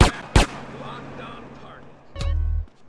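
Explosions and blasts in GTA San Andreas: two sharp bangs at the start, a quieter stretch with game sounds, then a heavy rumbling blast near the end.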